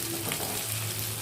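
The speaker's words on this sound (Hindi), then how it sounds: "इन सारी चीज़ों को मैं बिल्कुल लाइट सा फ्राई करूँगी।" Chopped capsicum and other vegetables fry lightly over a slow-to-medium flame, giving a steady, close sizzle with faint stirring and no talking.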